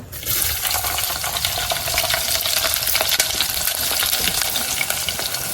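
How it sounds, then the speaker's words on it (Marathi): Loud, continuous sizzling of onions frying in hot oil for a Malvani fish curry, crackling steadily up close with no talking. "तर मी आता फोडणी घालते कांदो"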